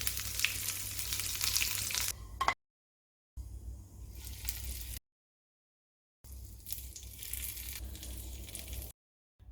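Mustard seeds, urad dal, dried red chillies and curry leaves tempered in a little sesame oil for chutney, sizzling and crackling loudly in close bursts separated by abrupt silences.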